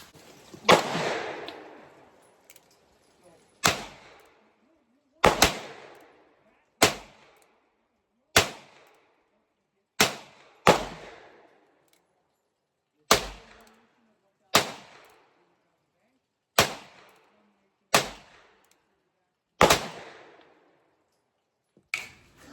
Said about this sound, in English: I have one gun out and I am going to fire that gun until it is empty